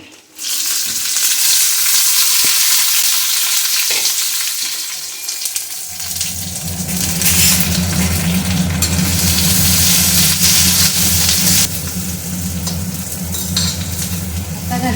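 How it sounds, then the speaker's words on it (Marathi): Onion and garlic frying in oil on a hot tawa, with a loud, steady hiss and crackle throughout, close by and uninterrupted by speech. "थोडंसं तेल घालते आणि मग आधी कांदा लसूण घालून घेते"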